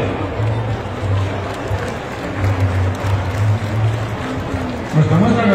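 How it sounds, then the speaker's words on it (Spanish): An audience applauds the cooks at a traditional dish contest in Santiago de Anaya. Steady, dense clapping mixes with crowd murmur and a voice over a loudspeaker throughout. "Un aplauso para ellas también."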